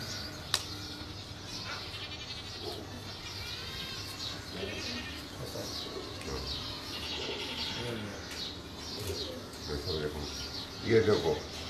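Old Sialkoti pigeons coo in a steady, low, throaty chorus from a flock kept together, mixed with fluttering and other bird sounds, with people talking over it.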